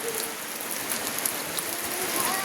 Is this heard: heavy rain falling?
yes